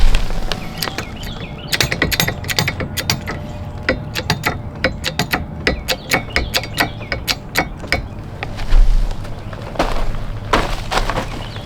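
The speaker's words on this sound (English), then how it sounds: "Next thing I've got to do is actually jack the house up" A jack being worked to lift a house and ease pressure off a rotten beam, giving a rapid series of sharp ratcheting clicks in bursts, with a louder creak near the end.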